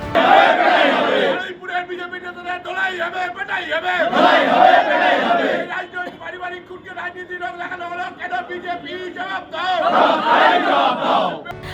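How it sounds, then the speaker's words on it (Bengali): A crowd at a Trinamool deputation in Baruipur, held over the killing of a BJP booth president, chants political slogans about beating BJP leaders: loud, rhythmic group shouting in repeated bursts with brief pauses between them. "উঠল বিজেপি নেতাদের ধোলাই পেটাইয়ের স্লোগান"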